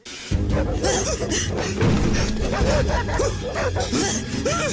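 Cartoon dogs in an animated TV comedy bark and yip repeatedly in quick overlapping bursts, loud and close over a busy soundtrack, with some whimpering and clattering mixed in.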